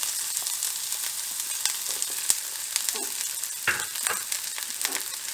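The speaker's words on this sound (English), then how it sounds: "into that oil we've got a shallot, a chopped chilli and a sliced garlic clove. So that can all go in" Shallot, chopped chilli and sliced garlic fry in hot oil, a close bright sizzle broken by a few clicks and knocks as the pieces settle in the pan.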